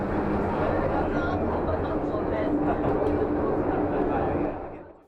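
Steady, loud rumble of a Pyongyang metro train in motion, heard from inside a carriage, with a continuous low drone and clatter that fades out at the very end; faint murmuring of passengers mixes in.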